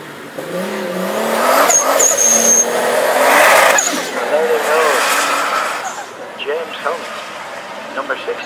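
A BMW launches at an Aintree motor sprint, its engine rising and revving hard as it pulls away, heard from trackside under a commentator's continuous talk.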